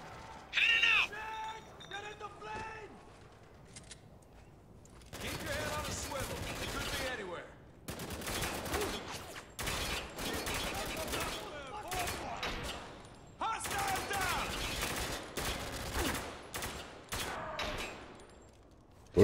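Bursts of rapid gunfire in Spec Ops: The Line crackle in clusters between pauses, loud and close, with someone talking over parts of it.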